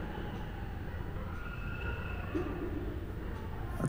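Steady ambient rumble of a railway station, with low mechanical drone and faint tonal hums of trains, continuous and moderately loud throughout with no clear talk.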